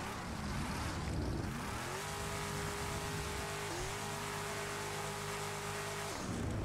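A FiveM game car roars through a burnout, its engine note climbing then holding a steady high pitch before cutting off, with a hissing nitrous purge running beneath; loud, no talk.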